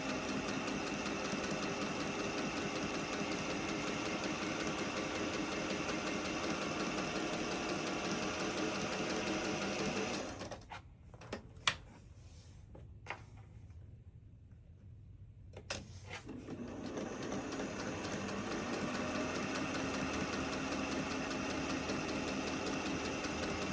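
A sewing machine runs a quarter-inch seam on LeMoyne Star quilt pieces with a steady close whir, then pauses for several seconds of near silence with a few small clicks while the fabric is turned, and resumes sewing.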